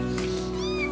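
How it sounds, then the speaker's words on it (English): Two small kittens meow on a porch during an SPCA rescue check, a short close mewing with a rising, wavering cry over a steady background hum. "Two little kittens"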